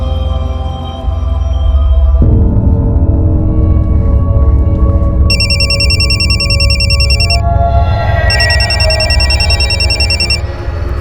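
A telephone rings in two bright repeated bursts over a loud, droning music bed, going on without being answered.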